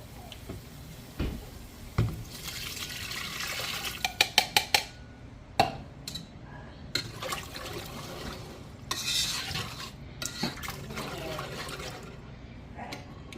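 Broth and milk are whisked into a pot of broccoli cheese soup, giving irregular clinks of the whisk against the pot, liquid swishing and pouring, and a quick burst of rapid metallic taps.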